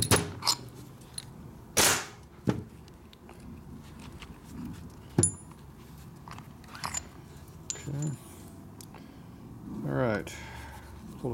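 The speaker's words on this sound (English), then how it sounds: "When you got those big cups, they go boom when it pops out. Big shotgun going off." A brake caliper piston on a 1999 80ci Evo motorcycle pops out with one sharp, loud bang early on, followed by scattered workshop clatter and someone talking.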